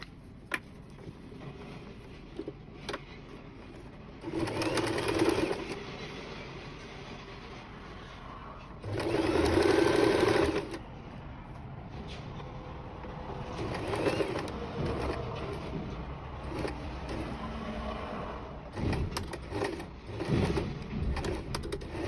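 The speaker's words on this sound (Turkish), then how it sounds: "Buradan şuraya kadar dikiyorum yine." Sewing machine stitching a shirt collar, running in two loud bursts with quieter intermittent stitching between, birds cooing faintly in the background.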